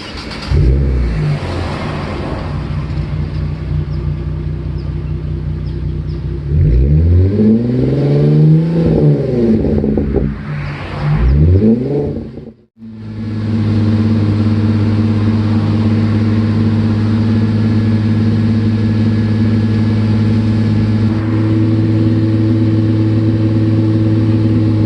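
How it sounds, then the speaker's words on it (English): A car engine turns over and catches, revs up and down several times with rising and falling whines, cuts out briefly, then settles into a steady, loud idle. "Now I'm going to turn on the engine."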